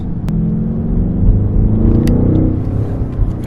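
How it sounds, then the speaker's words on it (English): A 2020 BMW X6 M50i V8 engine and exhaust drone at light throttle from inside the cabin, a deep continuous rumble swelling slightly in the middle with a few faint clicks. "I can hear a little bit more of that V8"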